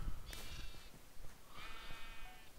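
Sheep bleating in a video game, two distinct wavering bleats spaced about a second apart, moderately faint over a low background noise, with no voices.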